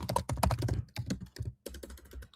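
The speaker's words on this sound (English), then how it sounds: "my typing tonight is shocking" Rapid clicking of computer keyboard typing comes in quick bursts with short pauses, close and clear.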